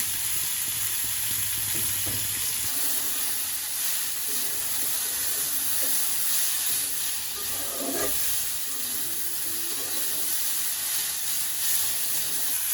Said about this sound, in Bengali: এই ধর 3 থেকে 4 মিনিট একটু নাড়াচাড়া করে ভাজলেই হবে